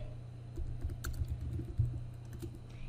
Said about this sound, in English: type a name for it